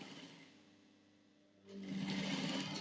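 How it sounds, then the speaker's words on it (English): A sewing machine stitches binding onto a quilt, starting quietly and then running as a steady, close mechanical whir for the last second or so. "And continue to stitch"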